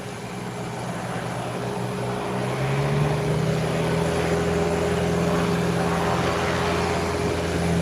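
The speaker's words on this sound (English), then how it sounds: "See United pushing back and getting ready to taxi to the runway for takeoff." A United airliner pushes back and taxis toward the runway at an airport, its engines a steady, fairly loud drone that rises in pitch partway through, with no talking.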